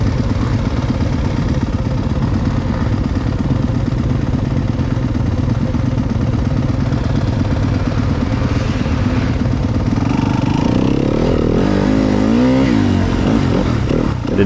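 An enduro motorcycle runs loudly at a Michigan Sprint Enduro race at the Battle Creek Motorcycle Club, its engine droning steadily at close range, then revving up and down near the end.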